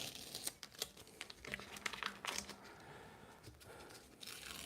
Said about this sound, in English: I'll take the tape off first